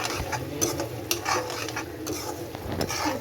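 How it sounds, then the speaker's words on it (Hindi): Semolina halwa roasting in a pan, stirred with a utensil that scrapes and clinks against the metal in irregular bursts over a low, continuous background. "अभी बना रही हूँ मैं सूजी का हलवा"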